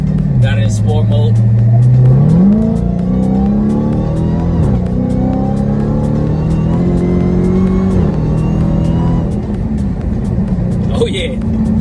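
A 2020 Dodge Charger Hellcat Widebody fitted with a Bwoody intake, in sport mode, revs loudly and close, its pitch climbing and holding in deep sustained pulls with supercharger whine, while a person talks over it.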